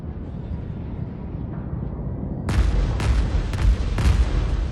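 Capital ship weapons firing in the space strategy game Homeworld 3 produce a low rumbling bed and then a series of heavy booming shots in quick succession, loud and close.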